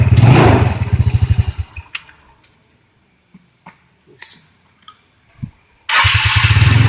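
Electric starter cranks the engine of a Yamaha Mio Fino scooter with a rough CVT one-way starter clutch, a loud, close, rapid chugging. Scattered clicks and clunks follow, then a second cranking burst.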